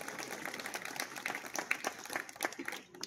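Audience applause at an award ceremony honouring village natives, a dense, even patter of many hands clapping, fairly distant and moderate in level, fading at the end.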